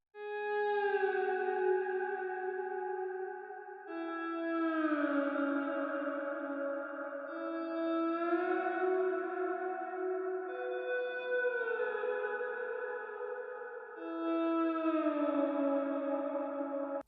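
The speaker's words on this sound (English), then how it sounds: "The next thing to come in is the guitar slides" Slow sliding guitar notes played through a Corey Wong amp with delay and reverb, each phrase gliding down in pitch with echoing tails, repeating in a sad, eerie melody of about four long phrases, alone and clear.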